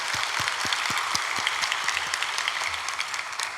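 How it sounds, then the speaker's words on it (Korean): A congregation at an early-morning special prayer service applauds a family. Sustained clapping fills the room, with a few sharper individual claps standing out near the start. "우리 그 가정을 위해서 박수 한번 해주시겠습니다."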